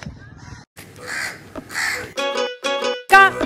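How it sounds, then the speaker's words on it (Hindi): A crow caws repeatedly near a sports practice ground, harsh calls coming in several separate bursts that grow louder and closer toward the end. "कौवा काका कर रहा है"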